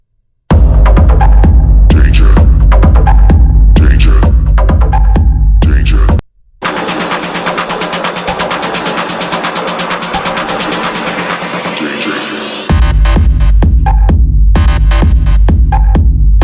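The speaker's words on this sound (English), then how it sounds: "Again, you can hear that rumble." Pulsing techno track with a heavy, throbbing low-end rumble, briefly cutting out midway before a denser, distorted section, then the thumping beat returns.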